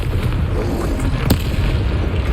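In Hogwarts Legacy, a Confringo spell explosion lands as one sharp, brief blast over a dense, rumbling battle soundscape.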